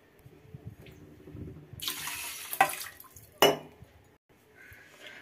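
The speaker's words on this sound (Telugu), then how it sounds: "2 గ్లాసులు వాటర్ పోసేసుకుందాం." Water splashes from a tap into a pot of washed rice in a home kitchen, a few short gushes and clatters, close and fairly quiet.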